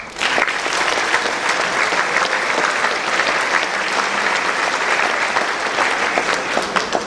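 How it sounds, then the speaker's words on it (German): Loud, sustained applause from a school audience at a foundation donation presentation, dense steady clapping filling the room without a break. "Applaus"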